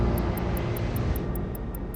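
A large passenger airplane lands at Heathrow Airport, its broad engine roar filling the air steadily and loudly throughout, with a faint regular high ticking running above it.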